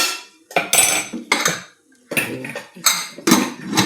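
Metal pots and a pressure cooker lid clank and rattle as the cooker is set up on the gas for carrot halwa, giving several sharp, close bursts of clatter separated by brief pauses.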